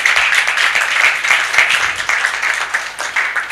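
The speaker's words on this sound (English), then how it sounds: "A better round of applause to the panelists" Conference audience at a women lawyers' event on gender and justice claps for the panelists; close, lively applause with crisp individual claps swelling and easing in waves, no one talking.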